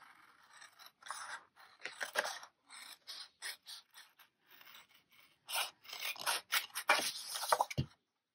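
Scissors trim a paper journal page up close, a run of short crisp snipping and rasping cuts in uneven bursts, quiet and alone, ending with a small thud.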